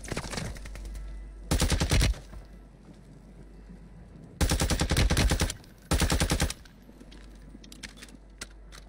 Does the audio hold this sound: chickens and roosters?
no